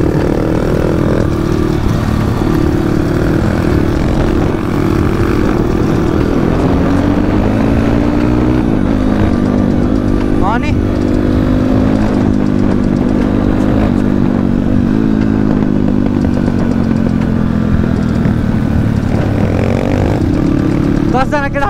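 Dirt bikes racing on a new dirt track at Chunikhel give a loud, continuous engine drone that rises and falls as riders rev and shift, close by throughout.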